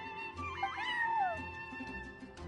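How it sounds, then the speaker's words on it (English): A cat meowing in the video game Genshin Impact, one drawn-out rising and falling meow over a soft musical backdrop. "I'm sorry, that's my neighbor's cat."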